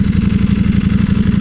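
A 2018 Ducati V4S motorcycle engine idles close by, a loud, steady low throb with an even pulsing rhythm and no voices.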